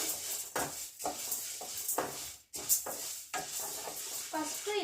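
Popcorn kernels fry in oil on slow-medium heat, a soft sizzle broken by rhythmic stirring and scraping strokes in the pan, fairly quiet and close.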